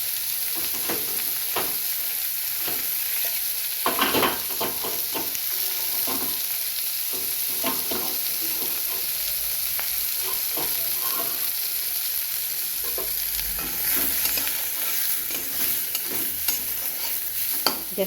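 Food fries in a pan over a lowered, medium gas flame, with a continuous close sizzle and repeated scraping and clattering as a utensil stirs it. A few louder knocks punctuate the frying.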